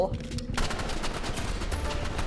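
Rapid gunfire from a Roblox Rivals shooter match, a dense run of repeated shots that starts abruptly and keeps going loud and close for the rest of the moment, with some voice mixed in.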